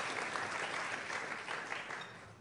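Audience applause at a State Department Iftar marking Ramadan Kareem, dense continuous clapping from a crowd, fairly faint and distant, gradually tapering toward the end.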